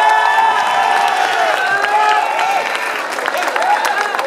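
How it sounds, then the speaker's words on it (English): Audience at a St Mary's College concert cheers and applauds in a packed hall, a dense continuous wash of clapping with excited voices and whoops mixed in throughout. "Give them a round of applause, please."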